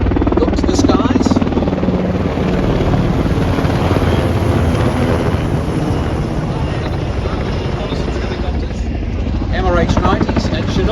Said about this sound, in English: MRH-90s and Chinooks from the Republic of Singapore Air Force and the Army Aviation Training Centre OP. Thundering through the skies there.